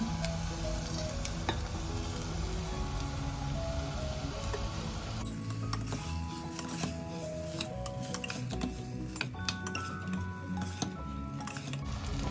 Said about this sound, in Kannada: ಈಗ ಇದಕ್ಕೆ ಅಕ್ಕಿ ಕೂಡ ಹಾಕ್ಕೊಳ್ತಾ ಇದ್ದೀನಿ.